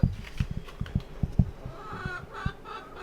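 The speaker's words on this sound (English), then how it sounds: "And there's chickens." Chickens cluck nearby in short, irregular bursts, a few soft clucks overlapping against quiet background noise.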